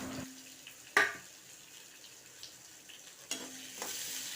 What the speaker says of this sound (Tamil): இதெல்லாம் நல்லா எண்ணெயில் வதக்கிக்கலாம்.